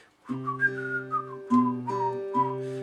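Someone whistles a short tune in gliding phrases, close and clear, above a sustained low guitar harmony.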